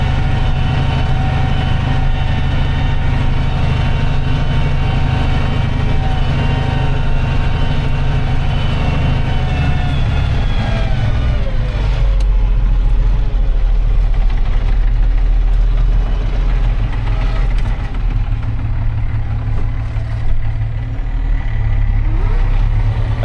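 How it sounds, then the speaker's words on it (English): Farm tractor engine heard from inside the cab during a day of plowing, a loud steady heavy rumble with harmonic drone that shifts pitch partway through, continuous and alone with no voices. "That's a loud tractor."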